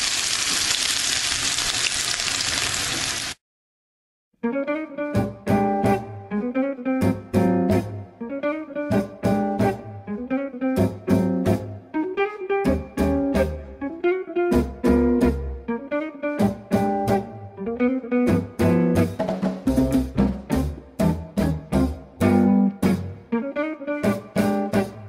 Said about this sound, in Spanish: Ya está caliente nuestro aceite, vamos a poner los tacos.